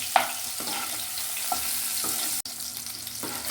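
Paneer roasting in ghee, a soft steady sizzle with light clinks and stirring taps at intervals.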